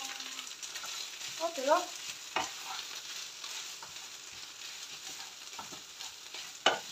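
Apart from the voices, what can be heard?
crêpe cooking in a pan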